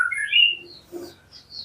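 A white-rumped shama, or murai batu, gives a few short, clear chirping calls, bright and fairly close, with brief pauses between them and no voices.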